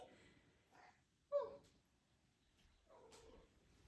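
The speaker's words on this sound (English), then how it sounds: "that's my other cat wanting to say hi to everyone today" A house cat gives a few soft, scattered meows indoors, one louder and sharper cry standing out among quieter vocal sounds, with long near-silent gaps.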